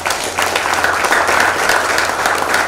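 A hall audience at the opening of a university talk series gives a round of applause, a thick, continuous wash of clapping held at a constant loudness for a few seconds without anyone speaking.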